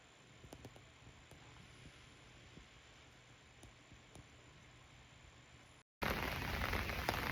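Rain falling steadily as a soft, close hiss with scattered drop taps, quiet throughout, then abruptly louder and denser for the last second or so.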